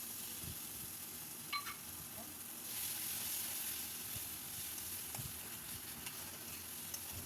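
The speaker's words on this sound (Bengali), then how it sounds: "এবার মশলাটা একদম তেল ছাড়া পর্যন্ত ভালো করে কষে যেতে হবে।" Spice paste with tomato purée and Kashmiri chilli powder sautéing in oil for egg biryani, a steady soft sizzle with occasional stirring scrapes throughout, no talk.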